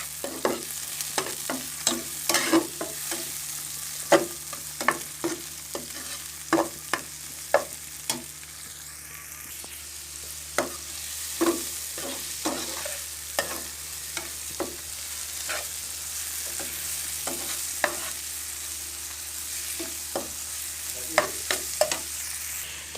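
Noodles and vegetables with green chilli, carrot and tomato fry in a pan, with a constant low sizzle under frequent sharp clacks and scrapes of stirring, close by.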